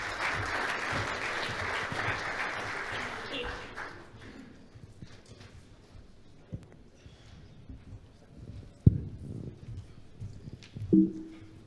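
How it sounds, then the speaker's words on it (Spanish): Audience applause for a speaker at a Portuguese-language sports psychology session, a broad wash of clapping for about three seconds that then fades into a quiet room with scattered bumps and handling noises. "um aplauso e muito obrigado"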